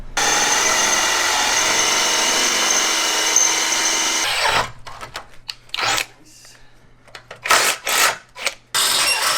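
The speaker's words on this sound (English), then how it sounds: "now we are ready to drill all these holes" A power drill bores holes for a spare wheel carrier on a Land Rover LR4, a loud sustained whine that stops and then returns as several short, uneven bursts.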